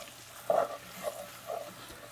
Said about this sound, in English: it's a time to just add your turmeric and saute with that a little bit more